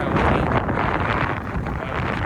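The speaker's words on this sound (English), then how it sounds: "the base of the building is always extremely windy" Steady, heavy wind roars and buffets continuously at the base of a skyscraper in a video game, a dense rushing noise with no voices.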